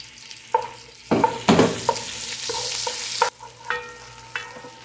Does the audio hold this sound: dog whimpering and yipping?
no